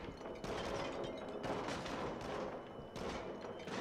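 Rapid gunfire in the VR horror shooter Until Dawn: Rush of Blood on PS4, a dense, loud run of overlapping shots and blasts with a few brief pauses.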